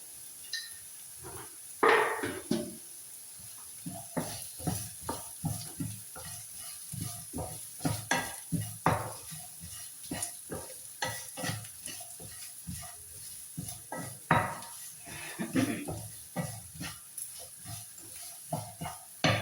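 Onions with salt sautéing in a pan, a quiet steady sizzle under repeated irregular scrapes and knocks of a spatula against the pan, continuing with no speech.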